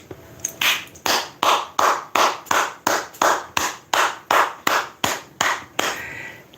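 Hands clap loudly about sixteen times in an even, steady rhythm, each sharp slap close and distinct, with no other sounds around them.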